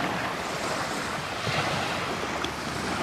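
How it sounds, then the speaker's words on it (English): Steady ocean surf washes up on a beach at sunset in a continuous broadband roar, close and fairly loud, with wind buffeting the microphone. "try and capture a little bit of the essence of the beach and the waves"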